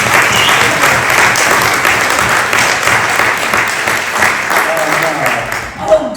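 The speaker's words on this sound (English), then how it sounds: "So give her another round of applause." Loud, sustained applause from an audience, steady clapping filling the whole stretch before it starts to fade at the end.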